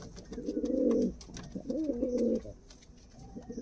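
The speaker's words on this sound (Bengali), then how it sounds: "দেখো পায়রাগুলো কত অ্যাক্টিভ পায়রা আছে" Giribaz pigeons in a loft give two long, throaty coos one after another, close and clear, followed by a softer trailing coo near the end.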